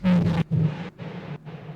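Bass sample from a Mudpie sample pack loop, a loud low tone with four chopped phrases separated by brief gaps, each with a strong bass note and buzzy upper harmonics, heard alone.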